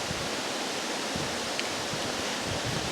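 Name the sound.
wind blowing on microphone outdoors between thunderstorms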